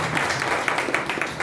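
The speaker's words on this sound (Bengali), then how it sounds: "জোরে একটা হাততালি চাই।" An audience in an office talk session claps together in a brief, dense burst of applause, with individual hand claps standing out through the steady noise.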